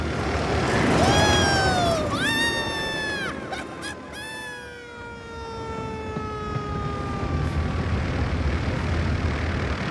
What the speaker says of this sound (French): Arrête l'hélice, tu entends?